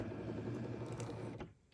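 A craft cutting machine draws a cutting mat in with a short whirring, rattling motor run that ends abruptly after about a second and a half.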